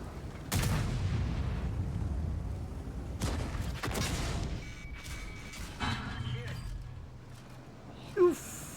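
A tank cannon fires in a video game, several heavy booming blasts with rumbling tails across the span, the first two loudest and close, later ones duller amid game noise, with a voice speaking briefly.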